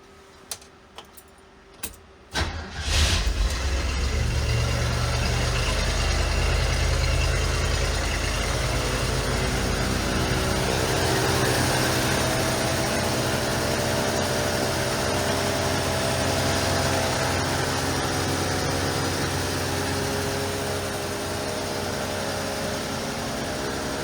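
A 1975 Ford Bronco engine fed from a fuel bottle through an Edelbrock fuel pump catches after a few clanks and then runs at a steady, loud idle close by, with no talk over it.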